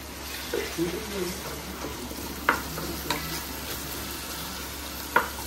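A pan of chicken pulao masala mixed with curd is stirred over a low flame, giving a low sizzle with occasional sharp scrapes, close up, plus faint background noise.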